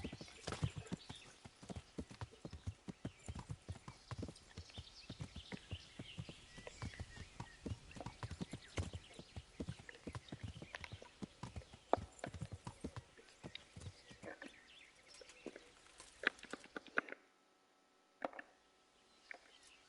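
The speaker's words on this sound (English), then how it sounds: "time to do some off-roading on my horse" Horse hooves clip-clop in a steady trotting rhythm through the medieval video game Kingdom Come, close and continuous for most of the stretch before thinning to a few scattered steps at the end.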